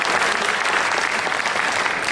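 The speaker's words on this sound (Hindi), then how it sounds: "एक बार मेरे लिए भी तालियां बजा सकते हैं" A Hindi-speaking lecturer's audience breaks into clapping. The dense, even applause fills the whole short stretch at a constant level.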